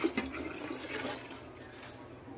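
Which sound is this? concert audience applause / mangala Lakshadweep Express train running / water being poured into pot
water being poured into pot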